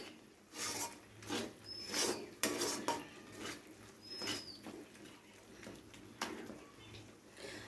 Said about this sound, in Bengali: টমেটো পিউরিটার সাথে খুব ভালো করে এইভাবে খুন্তি দিয়ে চেপে চেপে একটু মিশিয়ে নিতে হবে, যেন ডেলা ভাবটা মিশে যায় একদম।